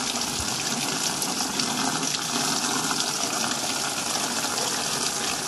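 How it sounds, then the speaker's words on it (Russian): Water runs steadily from a tap as a pump system is flushed, a continuous rushing gush with no pauses, fairly close and moderately quiet. "Вода идет еще немножко грязная, подождем, пока она осветлится."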